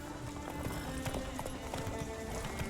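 Horse galloping in The Witcher 3, rapid rhythmic hoofbeats pounding steadily and close for the whole stretch, with a faint continuous ambient bed beneath.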